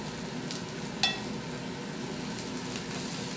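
Steady sizzling of pork frying brown in a pan, a constant crackle with a couple of faint clicks, no voices.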